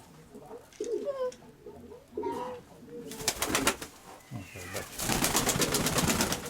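Pigeons coo softly in bursts, with rustling and fluttering noises building toward the end and faint voices in the background.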